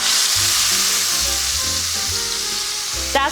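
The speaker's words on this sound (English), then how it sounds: "So when I set this roast down, it's going to sputter and make a lot of noise" A sirloin roast sears in hot canola and olive oil, giving a loud, steady sizzle and sputter close by, with low background tones underneath and a sharp crackle burst near the end.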